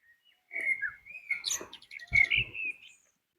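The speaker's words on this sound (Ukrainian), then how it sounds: "На березі сидить он птах і співає." A bird perched on a riverbank in a garden sings a clear, varied song of whistled phrases and quick chirps, close and fairly loud, with brief pauses between bursts.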